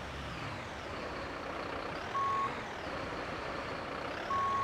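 A truck pulls away in the Notruf 112 emergency-services game, a steady engine rumble with two short reversing beeps, no talk.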